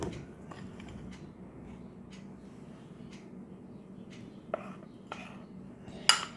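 A spoon stirs brownie dough in a bowl for a microwave brownie, giving quiet, scattered scrapes and light clinks against the bowl, with one sharper knock near the end.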